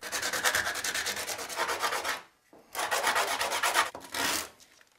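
Close, rapid scraping strokes of sanding on the corners of a handmade cane musical instrument come in two long bursts split by a short pause, with a final shorter run.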